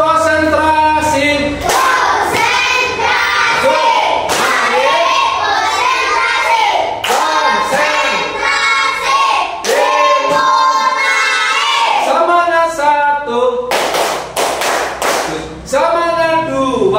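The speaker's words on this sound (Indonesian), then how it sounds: "Tepuk konsentrasi." Primary schoolchildren in a third-grade classroom perform a rhythmic concentration clap, with bursts of unison clapping and patterned taps interleaved with loud group chanting in children's voices, lively and close.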